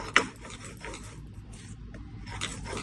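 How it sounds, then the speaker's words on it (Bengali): Mustard seeds ground by hand into a fine paste make a dry, rasping rub of stone on stone in repeated strokes, close and fairly quiet with no talk. "ভালো করে মিহি করে 3 বারে বেটে নেব।"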